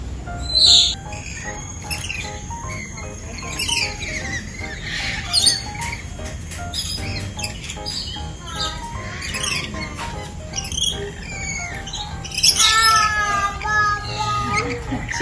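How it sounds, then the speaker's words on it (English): Parrots at a bird park in Kuala Lumpur let out repeated shrill squawks and chirps, some close and loud, with people talking and exclaiming throughout. "Cheeky parrot."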